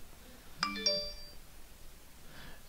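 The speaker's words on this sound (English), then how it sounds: "There's the opening bell." Stock market opening bell, two bright electronic chime tones struck in quick succession and ringing briefly, clear against a quiet background.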